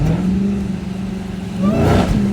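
A Dodge Charger SRT Hellcat's engine revs up close, a deep throaty roar that swells and falls, then rises again near the end.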